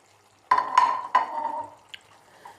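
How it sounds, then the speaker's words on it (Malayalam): Potatoes and carrots being stirred into chicken stew in a pot: two or three close, bright scraping stirs with a light clink, then quiet. "പക്ഷേ ഇതെല്ലാം കൂടി ഒന്ന് മിക്സ് ആക്കാം"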